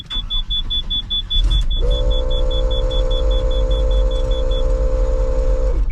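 A steady high electronic beep repeats from a vehicle over a loud idling engine rumble, joined partway by a lower sustained warning tone.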